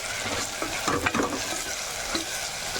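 Mutton curry with salt being stirred in a pan, a loud close sizzle running throughout with a burst of scraping and clattering spoon strokes near the middle, no voices.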